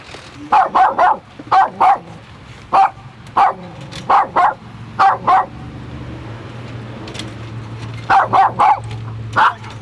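A dog barks in quick bursts, clusters of two or three sharp barks close by, pausing between groups, over a low steady hum.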